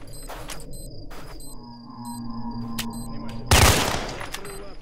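Rifle shots fired through a floor in the video game STALKER: Shadow of Chernobyl, several sharp reports spaced apart, then a louder, closer blast that decays over ambient game hum.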